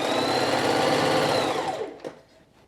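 A sewing machine back stitches along a seam of a quilted jacket, whirring loudly and steadily before winding down and stopping, followed by a brief click and quiet.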